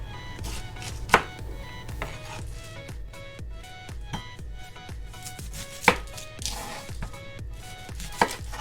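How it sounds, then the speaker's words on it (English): A knife thinly slicing a whole quartered cabbage for Filipino pancit bihon, giving steady, rapid chopping taps on a board with a few sharper knocks, close and clear with no talking. "you're going to cut a whole cabbage in quarters and again, thinly slice"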